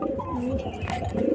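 Pigeon at home near someone bringing food, giving a soft, low cooing call that rises and wavers across a short burst, close by and alone.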